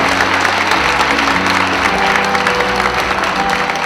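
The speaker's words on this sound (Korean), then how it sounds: "큰 박수로 환영해 주시기 바랍니다." An audience at a welcome ceremony for the mayor's New Year district visit gives loud, sustained applause as community association leaders are introduced. The clapping stays dense and unbroken throughout.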